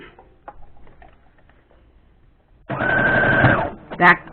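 A sewing machine stitches Dresden Plate quilt blocks along a quarter-inch seam with a magnetic seam guide, a loud steady run of about a second following a stretch of quiet talking, then a brief mechanical clunk.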